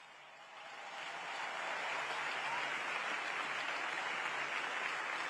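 A large outdoor crowd at a papal Mass applauds the volunteers, the clapping swelling over the first second into a broad, distant, sustained ovation.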